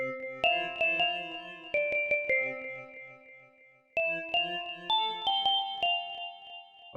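Bell presets from the Citrus synth plugin in FL Studio ring out as bright, tonal chimes in repeated melodic phrases, each struck note decaying in a shimmering tail, with a short gap before a second run of chimes.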